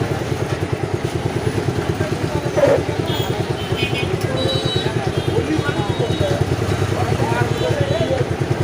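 Motorcycle engines idle and putter together in a traffic jam in Mathurapur, a steady pulsing mid-range drone close by, with one louder burst partway through and no talking.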